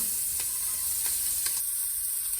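Onion, pepper and celery sizzle steadily in a little olive oil in a pan, a continuous close frying hiss with faint stirring scrapes.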